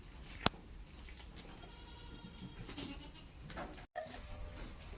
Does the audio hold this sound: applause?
no